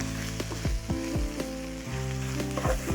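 Spices fry in a hot pan for a mushroom sauce, with a steady loud sizzle broken by repeated scraping stirs of a spoon.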